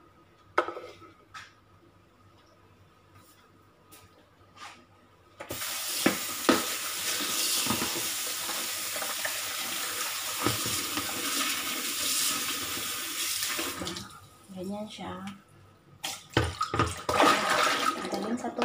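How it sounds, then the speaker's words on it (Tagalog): Running water pours loudly into a kitchen sink or basin while winter melon is washed, a dense rushing flow that stops and starts, with brief handling noises and a few quiet spoken words. "Pakita ko sa inyo kung paano maghugas dito."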